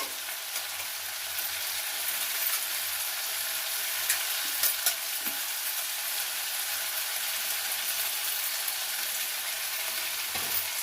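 Thinly sliced potatoes sizzle steadily as they fry in a pan for a Telugu-style potato fry, with soft intermittent scrapes and clacks of stirring over a constant hiss. No one speaks.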